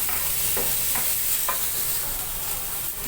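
Bell pepper and carrots stir-fried in a hot pan sizzle steadily and close, with a few scraping stirs of a spatula.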